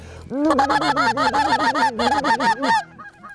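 Rapid, excited honking of geese, many overlapping calls in a fast chattering run, loud and close, before trailing off.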